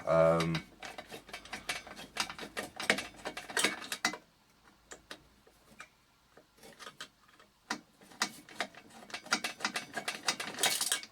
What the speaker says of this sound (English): We'll try and get them screws out and then just pull all this from the front out of the case.